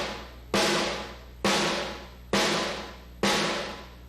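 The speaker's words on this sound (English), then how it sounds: "the real fat back tone, and that's kind of like playing in the center of the drum without hitting the rim." Four fat, full-bodied snare hits struck in the center of the drum without the rim land at an even pace, each a loud crack followed by a long, gradually fading ring.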